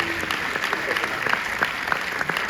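A cinema audience at a film premiere claps, a dense, steady round of applause filling the whole moment, with some voices mixed in.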